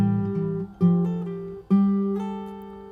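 Fingerstyle acoustic guitar plays the opening bar of a song, with three clearly plucked note groups and a bass line ringing under upper notes. It sounds close and clean, and no one talks.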